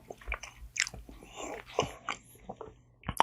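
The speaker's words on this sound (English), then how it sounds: "I was chewing on Pop-Tart" Someone chews a Pop-Tart close to the mic, with irregular crisp bites and soft mouth crunches over about three seconds and no speech.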